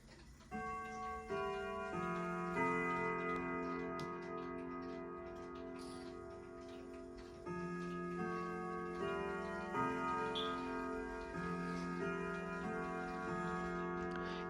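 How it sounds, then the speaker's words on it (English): A Westwood Triple Chime grandfather clock, set to Westminster, ticks steadily throughout with a sustained ringing chime tone layered over the beat, fairly close and alone with no talking. "Up next is my Westwood Triple Chime grandfather clock, which I already set to Westminster just for this video."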